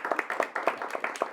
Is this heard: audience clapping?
yes